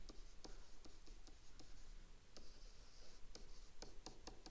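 A pen or pencil scratches across paper in quiet, close strokes, short repeated ticks and scrapes as a few words are jotted down during trigonometry working.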